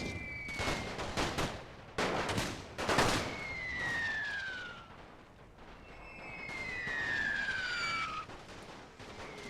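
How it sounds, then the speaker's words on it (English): Rifle infantry trading volleys in the Great War: Total War WW1 mod, with sharp broadband gunfire cracks clustered in the first few seconds, then a steadier, slightly distant battle din carrying whistling tones. "My rifle infantry exchanging fire with their conscripts."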